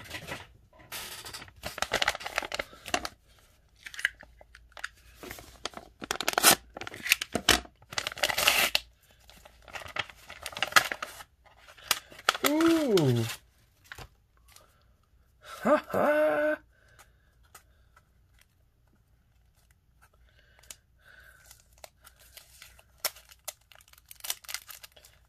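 A mailed package sealed with painter's tape is torn open by hand, with bursts of ripping tape and crinkling wrapping close by, broken by pauses and fading into quieter rustles near the end.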